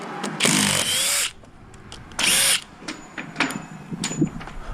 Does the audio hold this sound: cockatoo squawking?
no